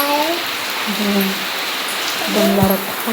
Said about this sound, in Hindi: बारिश हो रही है, बहुत सारा पानी गिर रहा है।